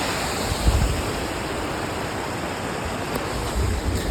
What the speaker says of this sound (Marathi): इथून असं काही पाणी येतंय.